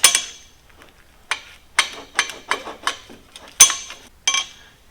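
Bolts being tightened on a saw in a workshop, a series of close metallic clinks and ratchet-like clicks at an uneven rhythm, loud against a quiet background.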